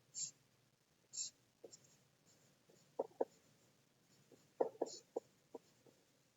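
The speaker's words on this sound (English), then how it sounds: "let me write it first" Pen or marker on a writing surface makes a handful of faint, scattered scratches and ticks at close range, quiet against a low background, with a soft breathy sound now and then.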